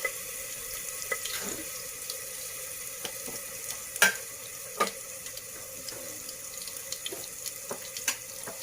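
A teaspoon of ginger garlic paste fries in oil, giving a soft, steady sizzle marked by intermittent spoon clinks and scrapes. A couple of louder taps stand out midway, and no speech is heard.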